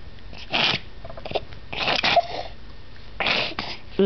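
Big sneezes from someone burst out in three separate, close and loud blasts, each sharp and breathy, with no talk between them.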